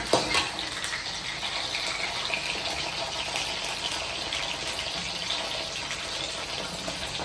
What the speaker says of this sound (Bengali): এর সাথে সাথে আমি এখন পেঁয়াজ দিয়ে দেবো।